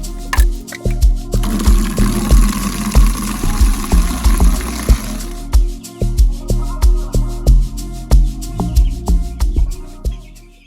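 Water is poured out for day-old broiler chicks in a winter brooder, a close, steady splashing pour with rhythmic gulping surges, then sloshing continues.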